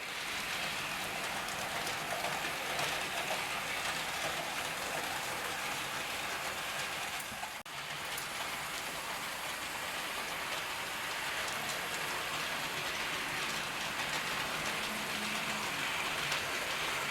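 EFE Rail OO scale model of 1938 London Underground tube stock, a four-car motorised train, runs over mixed track with a steady, hissy whirr that fills the whole stretch, broken only by a brief dip near the middle, with no talking.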